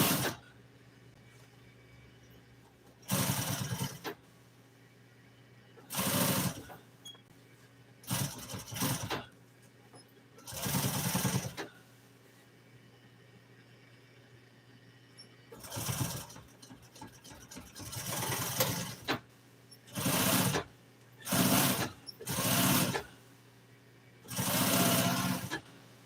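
An auto upholstery sewing machine stitches a car interior seam in short, whirring bursts of a few seconds each, stopping and restarting repeatedly with quiet pauses between, close and fairly loud.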